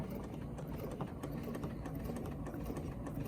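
A quilting sewing machine stitches slowly back over a previous line with a Westalee ruler, giving a steady, continuous mechanical hum close by with no one talking.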